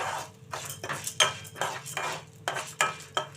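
Chana dal and urad dal dry-roasting in a pan, heard as repeated rattling bursts of lentils tossed against the metal with clinks of the spoon, close and rhythmic with short pauses and no talking.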